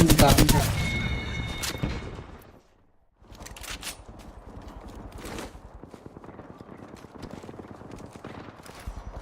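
Smart bullet gunfire from Apex Legends, a loud burst of rapid shots up front, a brief drop to near silence, then continuing clattering shots and movement under game effects, with a character voice speaking.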